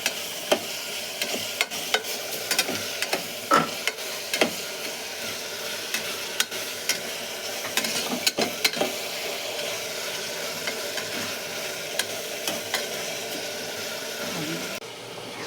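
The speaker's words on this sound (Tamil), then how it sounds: "எண்ணெய் ஊற்றிட்டோம், பட்டை லவங்கம் போட்டாச்சு, வெங்காயம் போட்டு வதக்கி இருக்கிறோம்" Onions sautéing in oil with cinnamon and cloves for tomato biryani rice, a steady sizzling hiss with frequent sharp ladle clicks and scrapes against the vessel, close and moderately loud, no talking.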